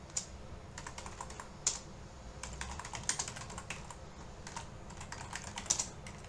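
Keys clatter on a computer keyboard during spreadsheet work in Excel, with quick irregular taps and a few louder strokes, close up and steady over a quiet background.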